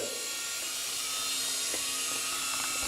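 A small JJRC SY003B infrared RC helicopter hovers close by with its rotor at full throttle, giving a constant high-pitched motor whine and buzz throughout.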